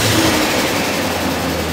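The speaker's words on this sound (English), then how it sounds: "Now listen to the rattly M62." Rattly BMW M62 V8 running in a BMW X5, a loud, dense, steady mechanical clatter and hum heard up close, with no voices over it.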